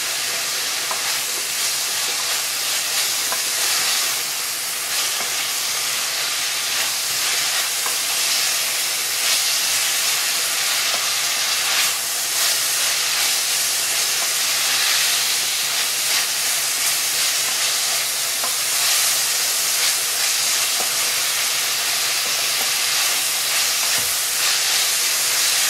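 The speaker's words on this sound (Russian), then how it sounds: "И постоянно помешиваем, потому что температура высокая, чтобы у нас ничего не сгорело, все равномерно обжарилось." Ingredients for a Chinese soup fry over high heat while being stirred, a loud, continuous sizzle and hiss with occasional scraping and clinks, lasting throughout with no speech.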